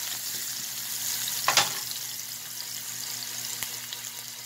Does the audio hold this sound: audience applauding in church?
no